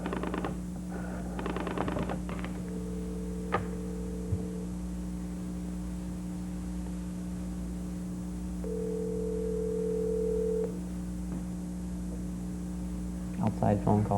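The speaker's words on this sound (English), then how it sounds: "You gotta hurry up and dial because you'll run out of dial tone." Steady telephone dial tone hums continuously throughout, joined by brief higher beeps and a few clicks, with muffled voices briefly at the start and end.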